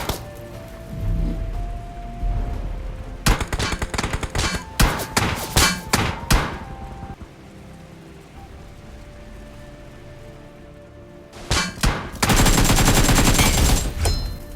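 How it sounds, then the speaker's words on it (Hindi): Gunfire aimed at a BRDM armored vehicle in PUBG: loud volleys of rapid shots and sharp metallic impacts over a steady engine drone, one cluster early and a dense burst near the end. "ये दोनों बंदे जो है मेरी BRDM पे फायर लेना चालू"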